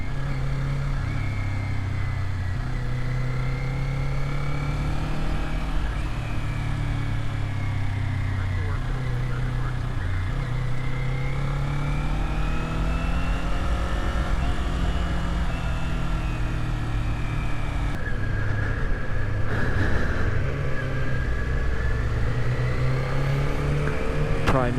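A Kawasaki Z400 motorcycle engine drones steadily while riding through mountain corners, its pitch rising and falling with throttle changes, close and continuous under wind noise.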